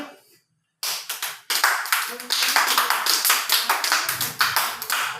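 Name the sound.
children clapping hands overhead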